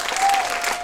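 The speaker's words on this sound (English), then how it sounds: "give yourself a round of applause" An audience at a film festival Q&A applauds, a brief burst of dense clapping that is loud and close, with no talk over it.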